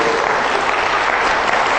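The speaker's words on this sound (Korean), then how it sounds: "박수 한번 또 쳐주실래요?" A church congregation in Toronto claps steadily, dense and loud applause filling the whole short moment with no voices over it.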